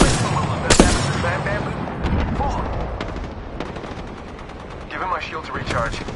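Rapid, repeated gunfire in the battle royale video game Apex Legends, with sharp automatic bursts and scattered single shots over several seconds, mixed with game effects and a person talking.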